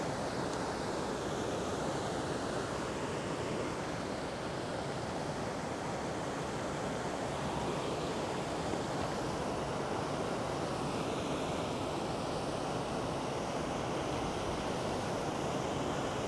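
Strong, steady wind roars across a reservoir bank in a continuous, full-bodied rush of broadband noise, loud and unbroken throughout.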